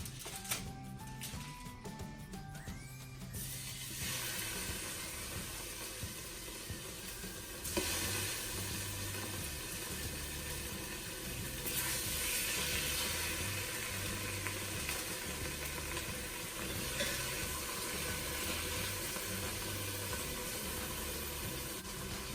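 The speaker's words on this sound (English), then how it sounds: "Go ahead and add a tablespoon of olive oil. And let's sear those pork chops." Pork chops sear in olive oil in a Ninja Foodi with a steady, quiet sizzle, broken by a few brief beeps at the start and occasional shifts as the meat is moved.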